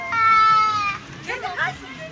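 A cat gives a drawn-out, loud meow up close, then a second shorter, wavering meow follows after a brief pause.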